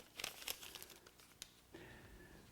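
A crumpled paper gas receipt is pulled out of a car's blower motor, giving a few quick, close crinkling and rustling bursts, fairly faint, followed by quieter paper handling.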